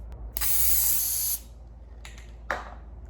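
A long, loud aerosol spray hiss of headliner adhesive in a Camaro lasting about a second, followed by two short spray bursts after a pause.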